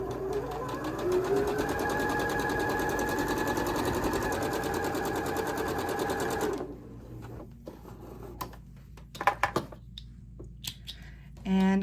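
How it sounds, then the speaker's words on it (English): A sewing machine stitches a quilt block for the Tree of Life quilt. It makes a rapid, even mechanical whir for about six and a half seconds, then stops, followed by a few faint clicks and handling sounds. "And I sew opposite sides before I go press."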